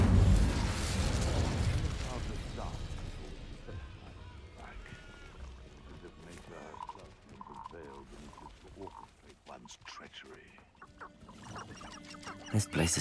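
The Incendio fire spell in the video game Hogwarts Legacy erupts as a loud, rushing burst at the start, then fades over several seconds into quieter game effects and scattered sounds.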